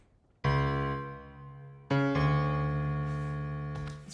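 A Phrygian bass line built on a flat second degree, played as sustained low pitched notes with rich harmonics: one long note, then a second note entering near two seconds and ringing on, with a short fresh attack near the end.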